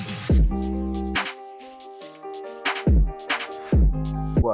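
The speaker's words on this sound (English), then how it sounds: "and like the perk fill continues, but I add an 808 now" Emotional drill beat with a continuing percussion fill and an added 808, layered over piano chords: deep sliding 808 bass booms land on the beat beneath snappy drums and melodic keys, loud and alone.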